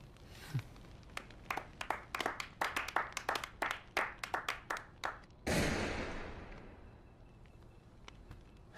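Slow, sparse clapping from one or a few people, about a dozen distinct claps in an uneven rhythm, then a sudden loud rushing burst that fades away gradually.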